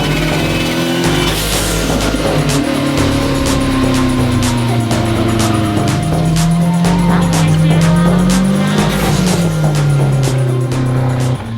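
Fiat 126 with a 2.0 turbo engine driving hard on a wet race track, its engine droning loudly and continuously, pitch rising and falling through gear changes, with faint tyre noise underneath.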